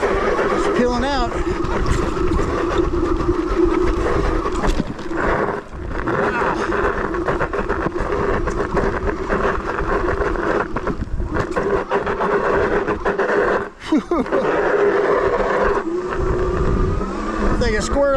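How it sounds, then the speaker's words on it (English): An AMYET S8 all-wheel-drive electric bike with two 1000W motors runs under throttle, giving a continuous loud drone mixed with heavy wind rush and only brief dips. "we're just throttling at the moment here in all-wheel drive."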